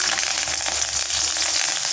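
Curry leaves, green chillies and garlic fry in hot oil in a pan for stir-fried pumpkin, giving a loud, dense, continuous sizzle with faint crackles and no talking.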